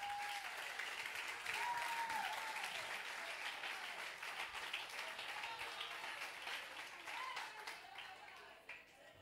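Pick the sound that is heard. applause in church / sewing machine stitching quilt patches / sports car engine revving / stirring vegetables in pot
applause in church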